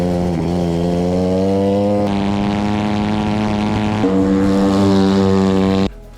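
A homemade go-kart engine running loud and close with a steady buzzing drone that rises in pitch as it revs, then cuts off abruptly at the end.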